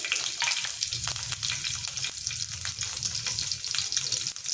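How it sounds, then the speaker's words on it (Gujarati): Mustard seeds and chopped green chillies frying in hot oil for a tempering: a loud, continuous crackle and sizzle up close, with occasional spattering pops. "હવે આપણે એમાં અડધી ચમચી રાઈ ઉમેરીશું અને 2 આપણે લીલા મરચાં લીધા છે"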